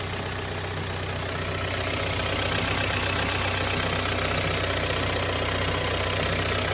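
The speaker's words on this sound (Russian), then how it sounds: "Работа мотора идеальная." Idling engine of a Kia Sportage 3, a steady even mechanical hum with a faint rhythmic ticking and a high-pitched whine over it, continuous and close.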